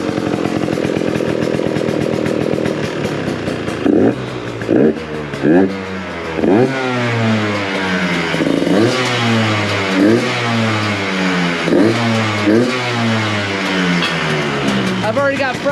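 A KTM two-stroke motorcycle engine runs loud and close on choke, repeatedly revving up and dropping back in quick, rising bursts with a raspy, buzzing tone.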